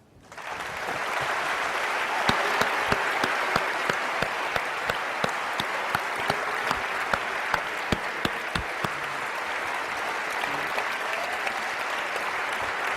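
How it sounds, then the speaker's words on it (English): A debate audience gives a sustained round of applause at the close of a debate on trusting the New Testament text. Dense, steady clapping fills the room, with a few sharper claps standing out. "Let's give both of them one more round of applause."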